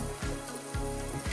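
Mustard seeds and a pinch of asafoetida hit hot oil for a mango and fenugreek seed curry, giving a brief, close, crackling sizzle with scattered pops and no talking.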